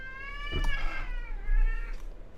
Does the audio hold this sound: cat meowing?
yes